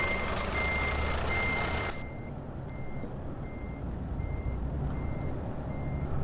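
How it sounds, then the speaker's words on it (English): Truck reversing alarm in Euro Truck Simulator 2 multiplayer, a regular series of evenly spaced beeps over a low engine rumble, steady throughout after a louder burst of noise at the start. "the chorus of reverse sounds"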